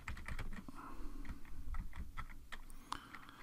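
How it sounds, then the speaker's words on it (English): Rapid, uneven keystrokes on a computer keyboard while a new folder is named, close and fairly quiet, clicking in short bursts with brief pauses and no talk. "And here I'm going to type in"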